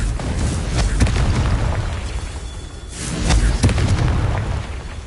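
Confringo spell blasts in Hogwarts Legacy boom loudly and repeatedly over a continuous rumble, with sharp pops and a heavier explosion swelling near the end.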